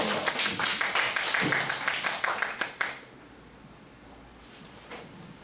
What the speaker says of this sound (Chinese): 那我们先以热烈的掌声啊来欢迎郭老师